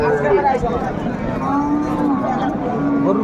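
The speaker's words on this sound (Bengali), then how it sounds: "বেশ সুন্দর গরু" Sahiwal bulls mooing at a cattle market in Dinajpur, a loud, drawn-out low call that rises and falls, close by over crowd murmur and market noise.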